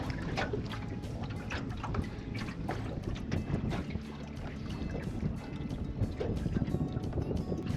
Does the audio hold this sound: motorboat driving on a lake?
yes